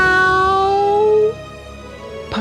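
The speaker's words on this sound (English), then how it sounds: "Meow!" A cat's meow, a single drawn-out, slightly falling cry, loud and close, tapering into a softer second call at the end.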